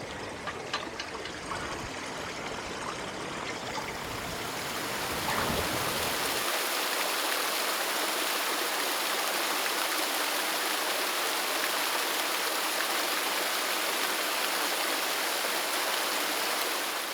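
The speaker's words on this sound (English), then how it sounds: "because we think we can hear a waterfall round the corner." A stream and waterfall in the Welsh hills near Hendre'r Mynydd rush with a steady, dense wash of water that swells louder and fuller partway through and then holds constant, with no voices.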